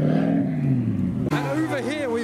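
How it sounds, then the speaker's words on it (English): A BMW M4 revs at a car meet, its engine note holding steady and then jumping sharply in pitch as the throttle is blipped. Voices carry on talking over the engine. "over here we've got the revving M4"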